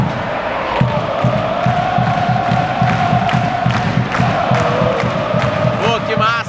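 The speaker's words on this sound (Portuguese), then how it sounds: "E a torcida dele é muito bacana, ó." NY Red Bulls supporters chant and cheer in a packed stadium during a match against Orlando City, with loud massed voices over a steady, rhythmic thumping beat of claps or drums.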